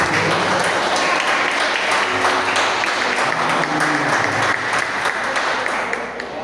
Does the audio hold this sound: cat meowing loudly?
no